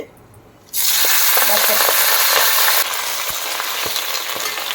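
Malabar spinach leaves hit hot oil with a sudden loud, dense sizzle, and the frying keeps crackling steadily and close up, easing slightly partway through.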